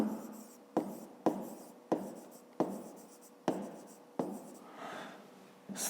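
A pencil writes on paper in a series of short scratching strokes, each starting with a sharp tap and fading quickly, close and fairly quiet and roughly evenly spaced.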